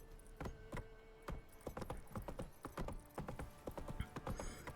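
Hooves clip-clop at a brisk trot in The Witcher video game, a quick uneven series of sharp knocks with light jingling of tack, fairly faint and without talk.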